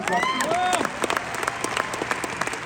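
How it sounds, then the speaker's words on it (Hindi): An audience at a company success-day event in Delhi claps, a crowded burst of applause with a voice briefly heard over it before the clapping thins into scattered claps. "एक बार दोबारा तालियां मारना प्लीज"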